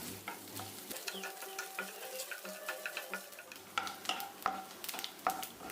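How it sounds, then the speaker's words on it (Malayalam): Small pieces of chopped coconut fry in hot ghee in a pan, giving a steady close sizzle broken by frequent clicks and scrapes of stirring throughout. "ഒരു അര ടേബിൾ സ്പൂൺ നെയ്യ് ഒഴിച്ചു കൊടുക്കാം ഒന്ന് ചൂടായി വരുമ്പോഴേക്കും കുറച്ച് തേങ്ങക്കൊത്ത് ഇതുപോലെ ഒന്ന് ചെറുതായിട്ട് അരിഞ്ഞ് ചേർത്ത് കൊടുത്തിട്ട് ഒന്ന് ഫ്രൈ ചെയ്തെടുക്കാം"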